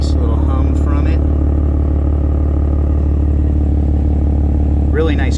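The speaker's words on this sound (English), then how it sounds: "it's just idling, so you get a nice little hum from it" A BMW M3 with an M Performance exhaust idles in a steady low hum, fairly loud and close throughout, while a person talks over it at the start and again near the end.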